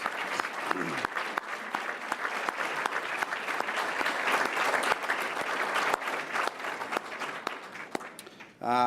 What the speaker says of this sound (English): let's give you all a round of applause, our certified bureaus that are with us?